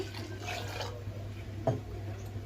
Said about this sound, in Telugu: ఒక చెంబునిండా వాటర్ పోసుకోవాలి